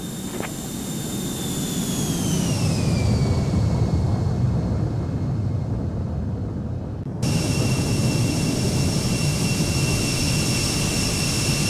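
Embraer E175 jet engines spooling up for takeoff in the X-Plane 12 simulator, a loud continuous roar with a high whine that drops in pitch and then holds steady as a bright tone, no voices.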